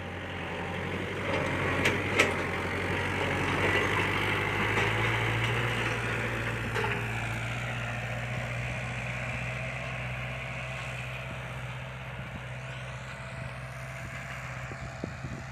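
A four-cylinder farm tractor engine idles and runs at close range, giving a steady, even diesel-like drone with a low hum, small knocks and clicks, and a slight settling after a brief rise.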